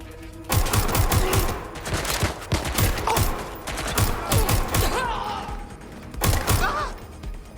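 Rapid bursts of gunfire rattle through a Watch Dogs Legion firefight, a dense volley up front, then scattered shots and a final loud burst near the end, with game sound effects in between.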